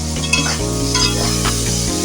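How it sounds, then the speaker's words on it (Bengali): Potato and eggplant pieces fry on gentle heat in a pan, a loud continuous sizzle with stirring scrapes and clinks, close up and without talk. "একটু আস্তে জালটা দিলে দেখো কত সুন্দর ভাজা হয়ে যাচ্ছে"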